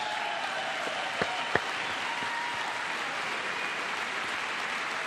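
A crowd in the chamber during a presidential State of the Union address applauds, a sustained, even wash of clapping with a few sharper individual claps standing out.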